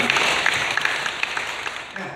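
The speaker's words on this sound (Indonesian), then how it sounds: "Tepuk tangan untuk Pak Mindo." Audience applause for Pak Mindo at a Four Pillars civic outreach gathering, brief scattered clapping under background hubbub.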